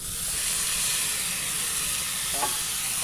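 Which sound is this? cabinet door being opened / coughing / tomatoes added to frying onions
tomatoes added to frying onions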